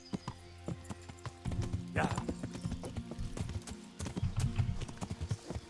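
Horse hooves clip-clop in a steady walking rhythm on a road in the video game Kingdom Come: Deliverance, with a brief whinny and bumps under intermittent talk.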